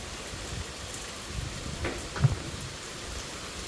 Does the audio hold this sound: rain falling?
yes